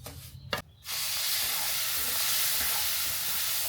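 Food fries in a pan with a loud, steady sizzle and hiss that starts abruptly after a brief clatter and continues close up without talk.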